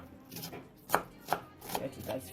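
A knife chops food finely for homemade egg fried rice, four or five sharp, close thuds against a board spaced unevenly over a soft background, with no voices.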